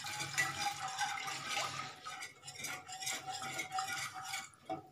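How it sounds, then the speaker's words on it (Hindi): Milk being stirred into a white sauce for pasta in a pan, a spoon scraping and swirling through liquid with light clinks against the metal, moderately quiet, uneven rhythm, no talking. "धीरे धीरे हम इसमें मिला देंगे।"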